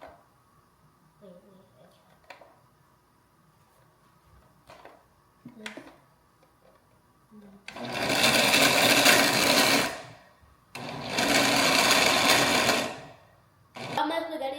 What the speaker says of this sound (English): I'm gonna be chopping my onions. This is like a machine.